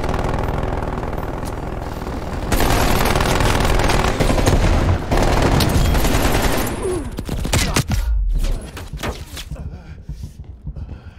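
Loud gunfire fills a Call of Duty Black Ops Cold War multiplayer match with dense, rapid automatic bursts, thumps and booms for most of the stretch, then a few sparser, quieter shots near the end.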